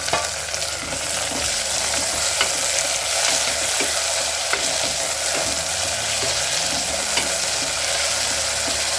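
Vegetables with coriander, mint and chopped tomato fry in hot oil for peas pulao, a continuous close sizzle with occasional scrapes and clinks of a spoon stirring the pan.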